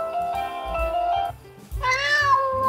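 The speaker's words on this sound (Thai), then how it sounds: "เสียงแมวก็มีเนี่ยเสียงแมวมีเสียงวัวด้วยมั้งเนี่ยขาว เสียงวัวก็มี" Cat meow alarm tone from the Vstarcam CS64 security camera app, two loud drawn-out meows with harmonic pitch glides, the second rising higher, separated by a brief pause.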